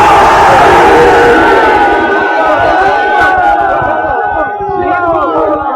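A large crowd at a 1995 religious majlis gathering in Larkana shouts the slogan Naara-e-Haidari in a loud, massed roar of voices that swells at the start and slowly fades and thins out, close and overwhelming.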